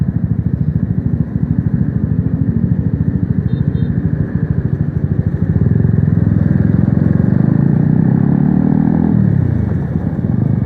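A motorcycle rides through the streets of Saigon, its engine a continuous close rumble that swells and shifts pitch as it accelerates, with traffic noise around it.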